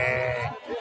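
A lamb bleats loudly and close by at a sheep livestock market in Kurshab, one sustained wavering cry lasting nearly a second, with market murmur behind it.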